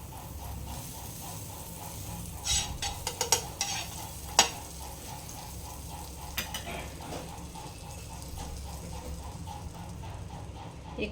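Butter sizzles steadily on a hot nonstick tawa for bread pizza, a soft continuous frying hiss with a few light clinks of a utensil against the pan.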